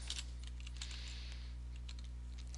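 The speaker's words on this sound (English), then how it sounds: "I'm going to start out by typing the item name." Typing on a computer keyboard while entering a menu item name into point-of-sale software: quiet, quick clusters of key clicks in a hushed room over a low background hum.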